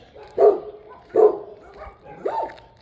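A dog barks three times at a steady pace, fairly close, with quiet pauses between each bark.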